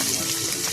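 Chopped onion and panch phoron spices fry in hot oil for upma, giving a brief, bright, steady sizzling hiss with no talk over it.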